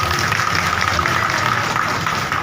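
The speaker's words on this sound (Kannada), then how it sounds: "ನಮ್ಗೆ ಸಹಕಾರ ಕೊಟ್ಟಿರ್ತಕ್ಕಂಥ ಶ್ರೀನಿವಾಸರಿಗೆ ಎಲ್ಲರೂ ಚಪ್ಪಾಳೆ ಮುಖಾಂತರ" An audience claps for Srinivas at a gathering in a women and child welfare office, steady applause throughout with faint voices mixed in.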